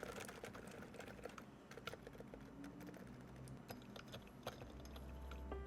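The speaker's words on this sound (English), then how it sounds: "very satisfying keyboard to type on" Typing on a Keychron Q3 keyboard with tape-modded silent Alpaca switches and ceramic keycaps: a steady stream of soft, muted key presses, quiet and close, with occasional sharper clacks and no talking.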